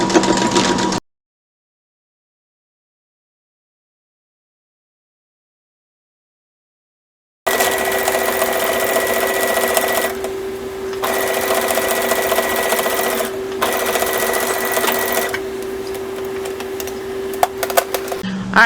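Sewing machine stitching a fabric face mask, a loud steady motor hum with rapid needle clatter, running in several long bursts with short pauses after an opening moment of silence.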